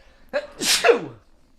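A single loud sneeze up close, a sharp intake followed by a burst, then quiet.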